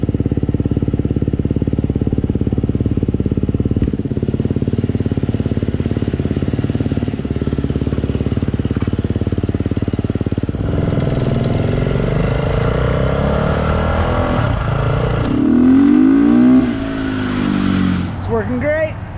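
A dirt bike engine, its clutch fitted with a Rekluse auto-clutch, runs steadily at mid pitch and close by, then revs harder with rising and falling pitch sweeps near the end as it is ridden.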